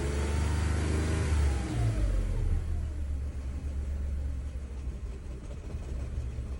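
A car engine with a cylinder 1 misfire runs roughly and unevenly at a steady idle, with a low uneven rumble and a brief rev near the start, close and without talk.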